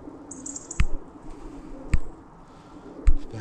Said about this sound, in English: All the pigeons up there now all watching me.